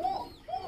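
Nuremberg Lark fancy pigeons coo in two soft, rolling calls, close and clear with no talk over them.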